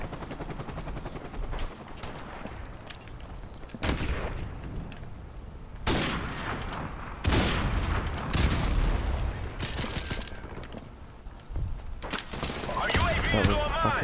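Modern Warfare Remastered match with repeated bursts of gunfire and a booming explosion, loud sharp shots recurring across the span while a player talks over the action.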